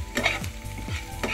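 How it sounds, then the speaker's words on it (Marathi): Garlic stirred in a hot pan with salt, a spoon scraping and pushing it through the oil in quick strokes while a soft, quiet sizzle continues underneath. "हे लसूण थोडा भाजेपर्यंत हलवायचा"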